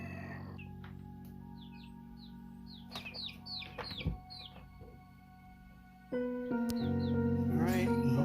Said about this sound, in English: let's go in there and check on that chicken